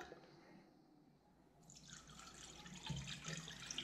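Pear poaching syrup strained through a sieve, a steady liquid pour and patter of drips that rises partway through and continues close and moderately loud.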